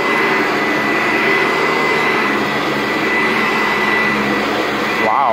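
A Vibra Groomer 2 carpet vacuum runs with brand-new brush strips fitted to its brush roll, giving a loud, steady motor whine and airy rush that holds throughout with no break.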